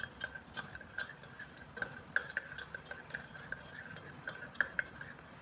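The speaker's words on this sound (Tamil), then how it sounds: "இதை நல்லா உப்பை கலக்கி விட்டுங்க." A spoon stirs salt into water in a tumbler, clinking against the glass in quick, irregular taps, close and faint with no voices.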